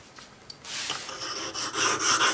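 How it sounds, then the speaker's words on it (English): A part of a Record No 078 plane gets a quick polish: a few faint taps, then close rubbing strokes that grow louder and more even toward the end, with no talking. "A little bit of a polish on there so the shavings fall off nicely."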